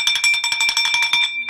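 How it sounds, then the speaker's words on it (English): A bell rings in a rapid, continuous trill of bright metallic strikes for over a second, then stops abruptly, loud and close. "Ring that bell."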